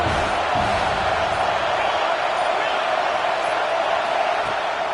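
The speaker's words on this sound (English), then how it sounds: "Decibels rising as the crowd gets behind this defense on 3rd down." A football stadium crowd at an Ohio State versus UNC game roars continuously as the defense faces third down, a dense, loud wall of cheering throughout, with a voice mixed in underneath.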